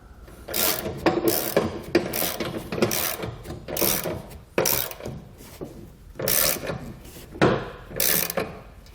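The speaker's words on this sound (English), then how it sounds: "so you can tighten down the bolts on the top and have them hold a 15/16 wrench on the nut underneath" A ratchet wrench tightens bolts on a truck bed rail on a 2018 GMC Sierra, making repeated rapid clicking strokes in short bursts with brief pauses between them, close and clear.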